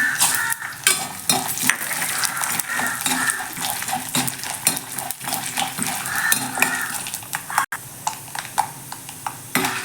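Peanuts frying in a pan for mint rice, a crackling sizzle overlaid with busy clinks and scrapes of a metal spoon against the pan, close and fairly loud, with no speech.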